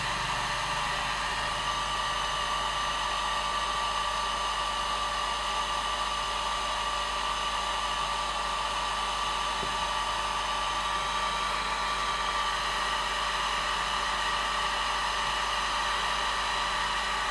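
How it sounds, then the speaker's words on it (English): A hair dryer blows in a steady, loud whooshing hum over freshly poured alcohol ink artwork, running continuously and unchanged the whole time. "holding the dryer to make the drying faster"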